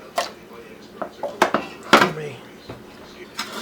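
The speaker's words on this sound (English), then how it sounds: "I'm going to start shoveling some of the vegetable solids into the bottom" Vegetable solids are scooped and dropped into a ceramic roaster pan, giving a series of irregular clinks and scrapes of utensil on ceramic, close and fairly quiet, while someone talks.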